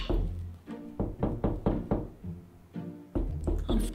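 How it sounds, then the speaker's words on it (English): Hollow knocks on a surface in Minecraft, a series of about a dozen muffled thuds in uneven clusters, fairly close and loud with short gaps between groups. "I was giving her the illusion the knocking's underground"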